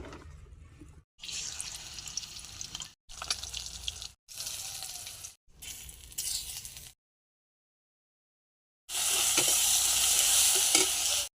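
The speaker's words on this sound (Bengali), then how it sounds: "মাছটা ভেজে নেব।" Fish sizzles and spatters in hot oil in a pan, heard in several loud bursts separated by silent cuts, with the final stretch the loudest and most intense.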